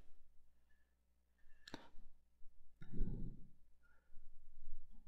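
A computer mouse button clicks once, sharp and close, then a second click follows moments later, both standing alone in a quiet room with faint background noise.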